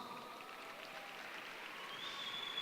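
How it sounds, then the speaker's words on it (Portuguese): A quiet, steady patter of clapping from a class group, sustained and fairly distant throughout. "Uma salva de palmas."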